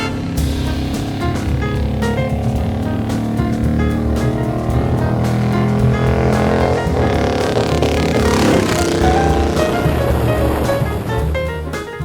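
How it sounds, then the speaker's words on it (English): A noisy little 500cc McCandless racing car with a high-compression engine laps the Goodwood racetrack, a continuous, steady drone with shifting engine pitch that holds at moderate volume throughout, with no voices. "On the racetrack, the noisy little 500cc car ran well,"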